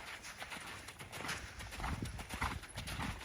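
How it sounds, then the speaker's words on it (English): A horse canters in a collected frame during a dressage lesson, its hoofbeats thudding in a steady three-beat rhythm at moderate distance with no voices over them. "make your slightly more collected canter from straightness"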